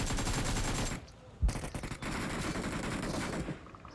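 Rapid bursts of gunfire in the BGMI mobile game as a bot is shot down: loud automatic volleys, a short break, then a single sharp shot and another stretch of firing.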